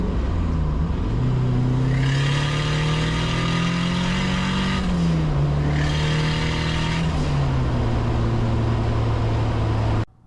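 Datsun 510 with a swapped KA24DET turbo engine, loud and close, revving and holding a strong droning note that climbs, dips and climbs again before cutting off abruptly.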